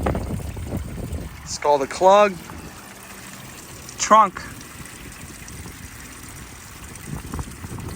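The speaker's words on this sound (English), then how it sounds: "I'll show you guys the water that was pouring out when we actually got the car." Water pours and trickles out of a flooded Porsche trunk, a steady splashing flow heard close by, with people talking over it.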